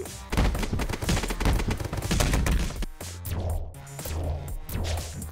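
Rapid gunfire in a video game, dense bursts of loud shots crackling close for several seconds, then a pause before more scattered shots over a low rumbling background.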